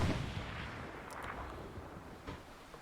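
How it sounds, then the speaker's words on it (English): Artillery and tank shelling in a video game rumbles in a low, continuous barrage, with a few sharper distant booms cutting through the roll of gunfire. "Artillery already shelling, tanks already shelling"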